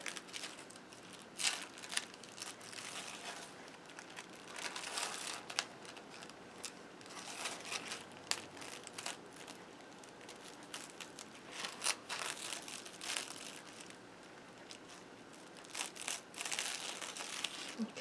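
Soft crinkling and faint peeling of paper backing being slowly pulled off a handmade scrap card, quiet and close, with brief rustles and crackles throughout.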